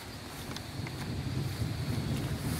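Wind blows steadily across a farm field outdoors, a constant broadband rushing with microphone buffeting and no speech.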